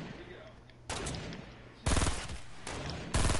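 Video game gunfire during a shootout, with loud bursts of rapid shots that start abruptly and come in repeated waves, dense and close.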